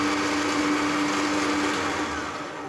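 Suihe 20,000 lb electric winch running under power, giving a steady, loud mechanical whir with a constant motor tone, close up, slowly easing off at the end.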